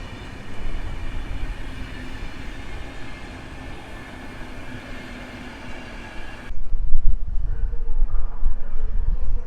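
A long passenger train of seven cars, including a restaurant car, rolls out of Warszawa Wschodnia station, giving a steady low rumble that grows louder and heavier partway through.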